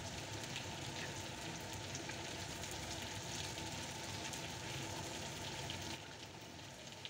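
Chopped onions and garlic, including whole garlic cloves, sizzling in oil in a kadai for a chicken kadai dish, a steady dense crackle that holds loud and even throughout, easing slightly near the end.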